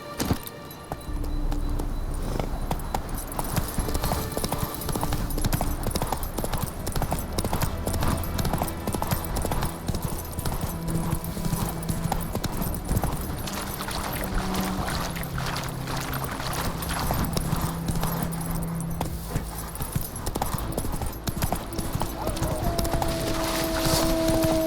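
Roach, Geralt's horse in The Witcher 3: Wild Hunt, gallops with a rapid, steady clip-clop of hooves that runs the whole time over a background game score. A faint whinny comes through as well.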